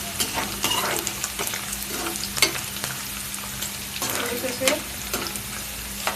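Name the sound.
frying and stirring vegetables for brown rice pulao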